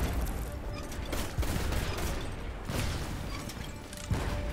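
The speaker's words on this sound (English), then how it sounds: "Left side shots are coming around right now." Ship cannons fire in the pirate naval game Blazing Sails, heavy booms recurring every second or so over a dense, noisy battle din of crashes and mechanisms, with no talking.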